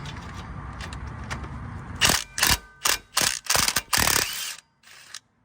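A ratchet fitted with a swivel works loose a wheel hub bolt on a Tahoe, giving a series of sharp, loud clicking bursts after a quieter stretch, with a last short burst at the end.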